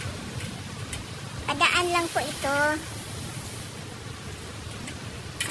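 Rain falling on a small flowering garden in Japan, a soft steady hiss of drops throughout, with a person speaking briefly midway over it.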